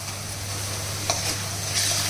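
Onions fry with ginger-garlic paste and turmeric in a pan, giving a steady close sizzle with a low hum underneath and a couple of brief scrape clicks from stirring.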